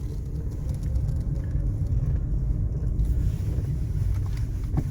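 A car cruising down a highway, a steady loud rumble of road and wind noise that holds constant throughout with no talk over it.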